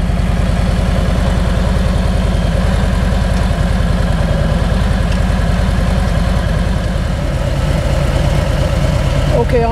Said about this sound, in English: it's better just to let the idle come down to about 960 RPMs